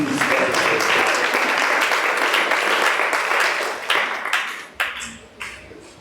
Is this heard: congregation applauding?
yes